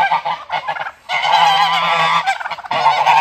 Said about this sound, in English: supposed to have a conversation with Charlie with those angry geese just yelling all the time?